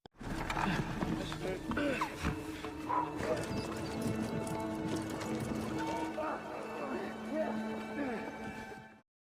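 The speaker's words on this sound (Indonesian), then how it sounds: "ketika ia dan Fred harus mendorong kereta kuda yang kesulitan bergerak akibat trek yang cukup menanjak." Horse hooves clip-clop steadily alongside creaking, rattling sounds of a horse-drawn cart struggling up a steep track, with occasional voices and a whinny, moderately close.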